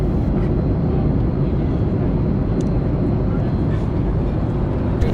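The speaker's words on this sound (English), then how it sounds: "here you can see the straightaway where the airplanes take off" A loud, continuous roar of jet or propeller engines, steady and broadband, heard close as from inside an aircraft during takeoff.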